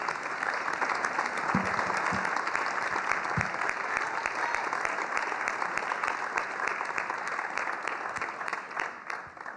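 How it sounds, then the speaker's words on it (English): Festival audience gives sustained applause, a dense steady wash of clapping from a crowd indoors, with a few brief voices underneath. "So, a big applause for the LEFFEST' for this."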